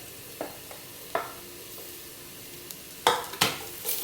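Shallots dropped into hot oil and sizzling in a pan while cooking a Kerala-style meat roast, with sharp stirring clinks and scrapes standing out over a quiet frying hiss, no talk.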